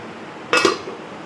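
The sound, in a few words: pot lid placed on a cooking pot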